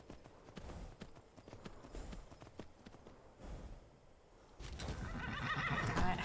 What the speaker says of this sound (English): Oh my gosh, I found a wild horse.